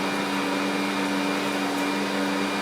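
An Ankarsrum stand mixer creams butter at a 6 o'clock speed, giving a steady, close motor whir with a constant hum that runs unbroken throughout, with no voices.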